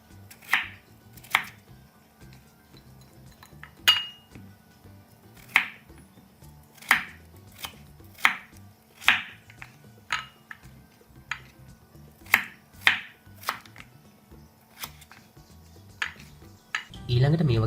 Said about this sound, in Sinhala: මුලින්ම අලවල පොතු ඉවත් කරගෙන මේ වගේ පෙති කපා ගන්න.